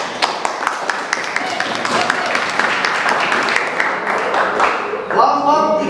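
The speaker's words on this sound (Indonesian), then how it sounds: "Tepuk tangan untuk kelompok 2." A classroom audience applauds a student group after their synopsis presentation, a steady patter of many hands clapping close by for several seconds before fading out.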